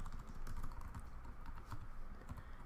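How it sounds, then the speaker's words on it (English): Steady clatter of keys on a computer keyboard while a name is entered into an SQL database, quick irregular taps running continuously at moderate level with no voice. "so I will type Oprah. Winfrey"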